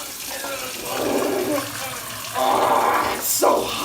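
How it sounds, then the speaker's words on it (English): Cold water running from a kitchen tap comes in gushing surges that swell and fade, loud and near, while a voice talks over part of it. "it's always recommended that you turn on your cold water as for the pipes to not explode"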